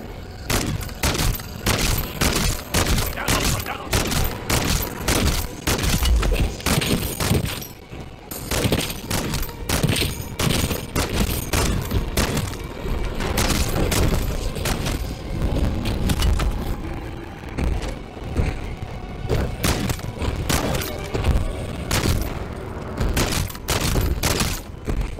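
Rapid, loud Longbow sniper rifle gunfire in Modern Warfare 3 Zombies, packed with sharp shots and booms over a constant game din for the whole stretch, barely pausing.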